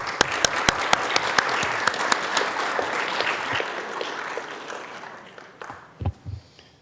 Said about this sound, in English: could everyone please give our city clerk a round of applause?